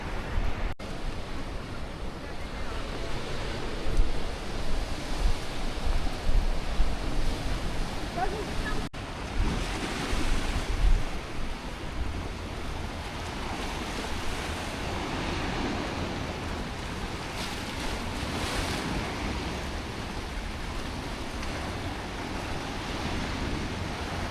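Ocean surf rolls onto the shore at Xiamen, China, a steady broadband wash of breaking waves with wind buffeting the microphone, continuous and fairly close throughout.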